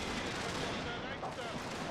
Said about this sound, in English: General can continue to fire at that.